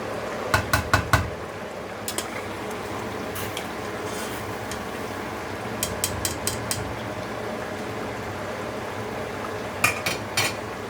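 Metal spoon scraping and clinking against a frying pan while meat for Dhaba-style aloo gosht is roasted. Sharp clatters come in small clusters over a low, steady background.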